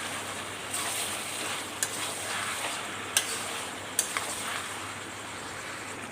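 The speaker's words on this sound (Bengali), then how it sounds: "ধনে গুঁড়ো, ভালো করে মিক্স করে দিই।" Chicken frying in a pan as coriander powder and turmeric are stirred in, a soft steady sizzle with a few sharp clicks of the spoon scraping the pan, close and fairly quiet.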